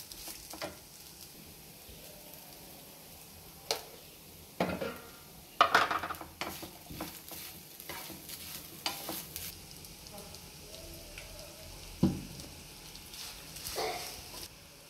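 Grated coconut is stirred in a pan for coconut rice, giving a faint, dry sizzle under sporadic scrapes and clinks of a spoon against metal, the sharpest knocks clustered early and a few later, with no voices.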